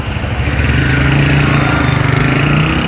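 Several vehicle engines idle and rumble together at close range, a loud continuous low throbbing drone with a faint rapid pulsing, on a rainy day in Constanza in the Dominican Republic.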